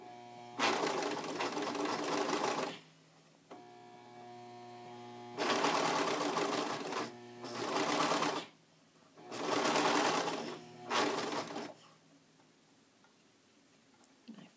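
Sewing machine stitching four fabric layers of nursing pads, loud buzzing runs in several bursts of one to two seconds separated by quiet pauses with a faint hum, close up and without talk.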